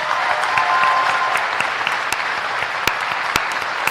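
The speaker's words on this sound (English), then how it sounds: "Let's give these folks a big round of applause." Sustained applause from a ceremony audience honoring nominated faculty and staff, steady dense clapping that fills the whole stretch, with a few sharper individual claps standing out near the end.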